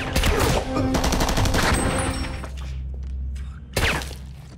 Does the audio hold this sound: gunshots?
yes